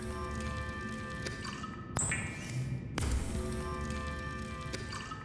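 Water being fabricated from bladderfish in the underwater game Subnautica, with a couple of sharp chiming crafting tones and a whooshing rise over steady ambient game music and hum.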